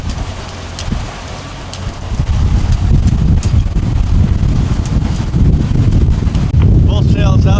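Strong wind buffeting a microphone aboard a sailing boat under full sail, a loud, continuous rushing roar with gusty surges, and a voice briefly heard near the end.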